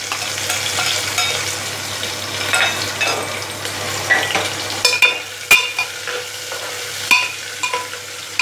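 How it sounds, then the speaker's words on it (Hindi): Onions frying in a pan for a vegetable biryani, a steady loud sizzle with scraping stirs and occasional sharp clinks of a spoon against the pan, no talking. "प्याज को सुनहला होने तक भून लेंगे।"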